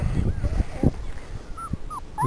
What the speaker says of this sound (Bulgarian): Отзад някакво друго скимти.